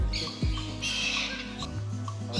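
A lovebird squawks several times in harsh, close calls, some sharp rising squeaks among steady background hum, with no talking.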